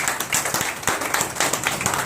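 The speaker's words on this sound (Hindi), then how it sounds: "तो एक जोरदार ताली हो जाए हमारी माताओं के लिए" Audience applause for the mothers at a primary school celebration, a brisk burst of many hands clapping with distinct individual claps, fairly close and continuous for about two seconds.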